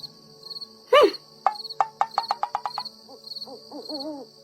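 An owl hoots in a series of short, rising calls, with a steady high insect trill running beneath throughout.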